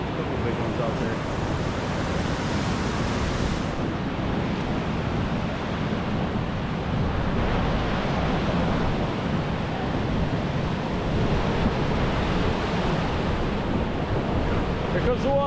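Big waves roll onto the Lake Superior shore in Michigan's Upper Peninsula, a constant heavy wash of surf mixed with strong wind buffeting the microphone, loud and sustained throughout.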